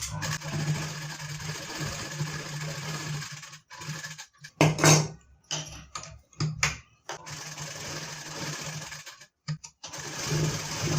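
A sewing machine stitching side seams on a bridal saree blouse in peacock-blue brocade, running in several short bursts with pauses between, close and moderately loud, with a steady hum underneath and no talking.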